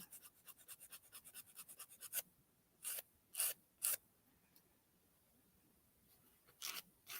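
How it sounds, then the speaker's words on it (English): Nails being shaped with the 180 grit side of a nail file: a quick run of about a dozen short rasping strokes, then several slower, louder scrapes separated by pauses, close and alone. "I'm using the softer side, which is the 180 grit."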